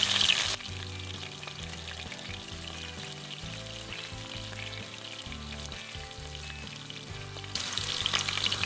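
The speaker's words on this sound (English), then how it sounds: "they don't take long to cook in this oil" Pheasant pieces for fajitas sizzle steadily in hot oil, a close, continuous frying crackle with louder bursts at the start and end as pieces are moved.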